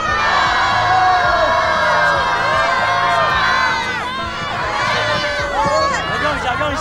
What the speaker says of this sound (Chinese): 各位拿出你们的欢呼声，再次欢送曲曼